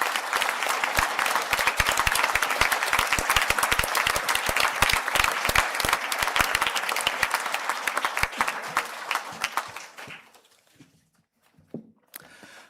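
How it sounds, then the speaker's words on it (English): Audience applause at a university spring conferring ceremony, a dense, sustained clapping from a large seated crowd that fades out near the end, leaving a few scattered claps and stirring. "please stand up for a well-deserved round of applause."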